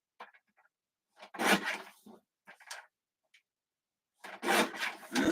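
Cardstock is trimmed down for a handmade card with a paper trimmer, giving short scraping, rubbing strokes in a few separate bursts with quiet gaps between them. The sound is close and moderately soft.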